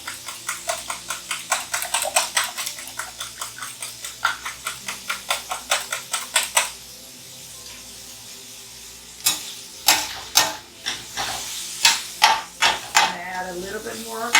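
Eggs scrambled in a pan with avocado oil, a utensil clicking and scraping in a steady rapid rhythm, then a pause and a few louder, irregular scrapes and taps close by.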